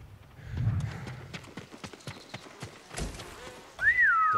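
Horse hooves clip-clop at a walking pace in the video game Ghost of Tsushima, a series of close, distinct knocks with a brief rustle, ending with a short whistling tone.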